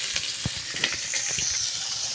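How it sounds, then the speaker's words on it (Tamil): Chopped onion and garlic sautéing in hot oil with spluttered mustard seeds, for a bitter gourd kuzhambu, giving a steady bright hiss with a few soft crackles and pops scattered through it. "வெட்டி வச்சு ஆனியன் பூண்டு இதெல்லாம் போட்டு நல்லா வதக்கிட்டே இருக்கணும்."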